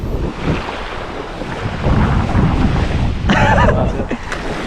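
Sea waves wash onto the shore at La Luz Beach Resort in San Juan, Batangas, with heavy wind buffeting the microphone and a louder surge of surf near the end.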